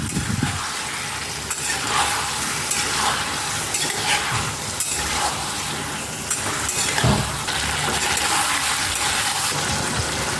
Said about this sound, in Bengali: মশলাটা দিয়ে আমি ভালোভাবে কষিয়ে নেব।